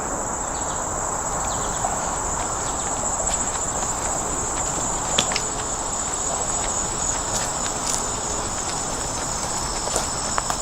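Steady, dense chorus of crickets and insects at a national wildlife refuge near standing water, a continuous high-pitched trilling throughout with a few faint ticks and rustles.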